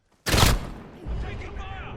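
Gunfire in the Modern Warfare 2v2 game, one loud close sharp burst followed by quieter crackling and echoing shots, with game effects trailing off.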